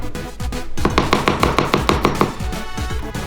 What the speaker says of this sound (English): Let's chop some garlic to go with the herbs and spices.